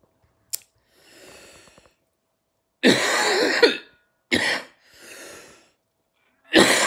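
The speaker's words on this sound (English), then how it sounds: "CBD that's making me cough." A person with a chest infection coughs in several harsh, close bursts separated by short silences, with softer breathy exhalations and throat sounds between them.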